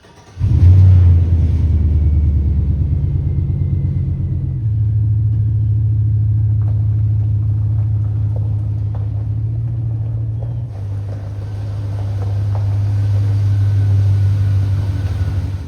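An off-road vehicle fitted with a mid-travel suspension kit and bead-lock wheels drives around into a shop, its engine giving a loud, steady low rumble that eases and swells slightly as it maneuvers; no talking.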